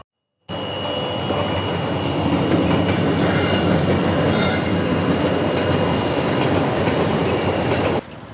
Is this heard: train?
yes